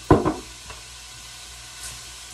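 Rice toasting in a pan for a mushroom and pea risotto starts with a couple of close scraping stirs, then settles into a faint, soft sizzle with an occasional light hiss.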